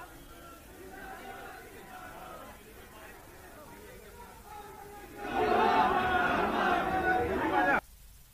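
Crowd of BJP workers gathered at Jaipur airport to welcome Om Birla, a murmuring babble of many voices that swells sharply into loud shouting chatter for a few seconds before cutting off abruptly.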